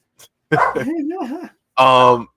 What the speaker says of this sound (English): Cameo by the dogs.